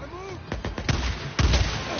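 Several sharp gunshots in a video game ring out in quick succession, a cluster of close cracks followed by a louder shot after a short pause, with faint game sounds underneath.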